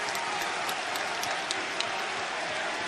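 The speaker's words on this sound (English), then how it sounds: "look at the fans stand up and cheer" A wrestling crowd at an AEW event in Philadelphia rises to its feet, cheering and applauding in a dense, continuous roar with a few sharper claps and shouts standing out.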